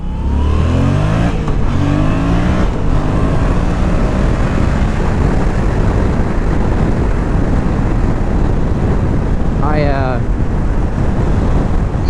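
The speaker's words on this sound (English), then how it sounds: "It's ridiculous how quiet this exhaust is." A Yamaha MT-07 motorcycle engine revs up under steady wind buffeting, a rising whine near the end, the exhaust fairly subdued and quiet.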